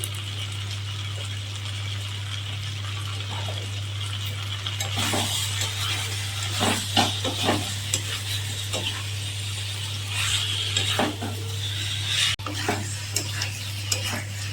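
Jackfruit, potato and spices are stir-fried in a pan, with a utensil scraping and clinking in bursts over a low sizzle and a constant hum in the background.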